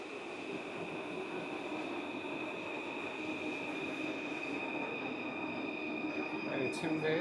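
A steady rumbling underground Paris metro ride with a constant roar and high whine, wheels squealing faintly toward the end.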